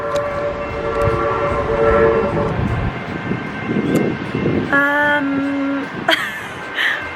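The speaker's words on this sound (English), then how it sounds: "There's the train." A train rumbles nearby with low roaring noise, followed by sustained tonal horn or whistle blasts, loud and close.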